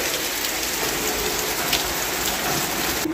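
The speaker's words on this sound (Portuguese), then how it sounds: "Chuvarada" Heavy rain pours down steadily, a dense, even hiss of drops drumming on surfaces close by, with no voices.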